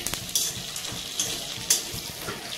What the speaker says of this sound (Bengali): এবারে এই বড়িগুলো ভাজবো